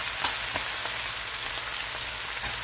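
Garlic sizzling in a hot pan with onions and shrimp fried rice, a dense steady frying hiss with scattered crackles and pops, close and continuous without speech.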